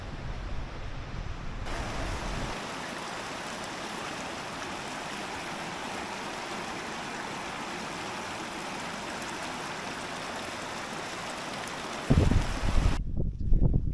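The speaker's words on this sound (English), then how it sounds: "This is the Rio Blanco or White River waterfall." Steady, dense rushing water of the Rio Blanco waterfall in southern Chile roars continuously and close by, a broad hiss that holds unchanged before a brief shift at the end.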